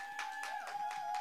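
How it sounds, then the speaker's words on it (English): A church congregation claps hands at an evening service, a quick run of distinct claps over a steady sustained tone in the room, moderately faint. "By the clapping of our hands, can we welcome our online audience"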